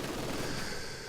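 Steady heavy machine gun fire from a Soviet HMG squad in Company of Heroes 2 battle, a dense, continuous rattle at moderate distance with no pauses over the short stretch.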